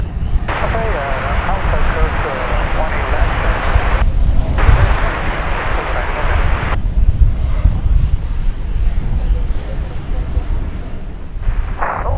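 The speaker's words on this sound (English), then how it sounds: "flight 1033, Air Canada, coming in from Toronto" An Air Canada Airbus A220-300, flight 1033 from Toronto, comes in to land at DFW Airport at night with a loud, sustained jet engine roar and a faint whine, while people talk over it.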